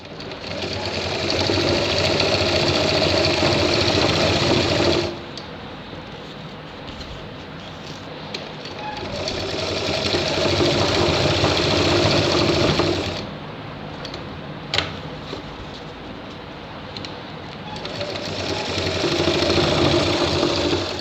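A sewing machine stitches a shirt in long loud runs of rapid needle chatter, stopping twice for quieter handling pauses with a sharp click, then starting again, close by.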